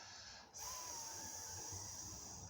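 A voice imitates a steady hissing fountain, a continuous breathy hiss that starts abruptly and holds evenly for about two seconds.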